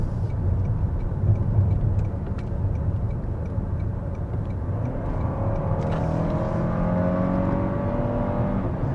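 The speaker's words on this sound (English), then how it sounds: "the 4-cylinder sounds okay. It's not the best sounding 4-cylinder. It doesn't sound strained in any way." A 2024 Toyota Crown's four-cylinder engine pulls steadily uphill, a smooth continuous drone from inside the car whose pitch slowly rises toward the end, with no talk over it.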